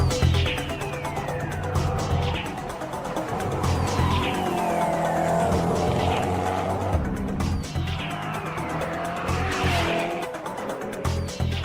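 A Koenigsegg supercar circles a round track at speed, its engine droning steadily while tires scrub and squeal through the constant turn, passing near and fading across the lap.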